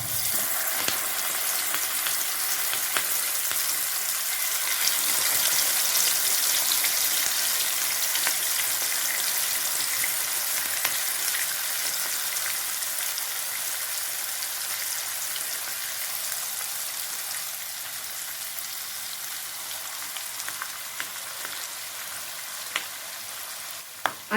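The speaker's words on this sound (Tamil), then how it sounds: "எண்ணெயில் லெக் பீஸ் போட்டுடலாம்." Marinated chicken leg pieces frying in hot oil make a constant bright hiss, close and even, with scattered small pops throughout.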